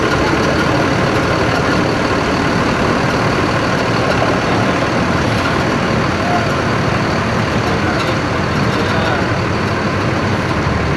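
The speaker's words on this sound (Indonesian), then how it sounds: "Bus pariwisata" A tour bus engine idles and runs at a rest area on an Indonesian highway, a loud, steady, unbroken diesel rumble close by, blended with surrounding traffic noise.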